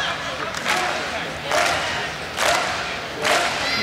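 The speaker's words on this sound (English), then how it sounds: "Crowd putting their hands together." A crowd at a men's college volleyball match between Hawaii and Ball State claps in rhythmic waves, with three or four swelling bursts of unison clapping over a constant arena murmur and shouting.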